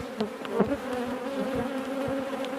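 Agitated honey bees buzz at an opened hive during a beekeeper's inspection, a dense, continuous droning hum close by, with individual bees zipping past now and then and no talking.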